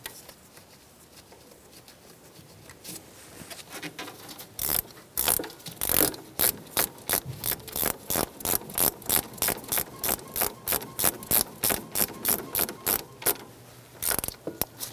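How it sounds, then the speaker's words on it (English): A ratchet snugs down a bolt on an AC compressor for a 1988-1999 GMC K1500 with a 5.7L V8. After a quiet start, rapid rhythmic clicking bursts repeat steadily and close up for about ten seconds. "Snug the bolt down."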